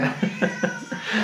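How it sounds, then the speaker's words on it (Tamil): A kitten meows in a home kitchen while vegetable biryani is cooked on a stove, giving several short, close cries in quick succession with faint background noise. "வந்துட்டாரு பூனைக்குட்டி"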